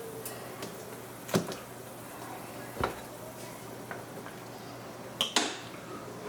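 Lobsters go into a pan for the oven with a few distinct sharp clatters against metal, spaced apart over faint background hiss.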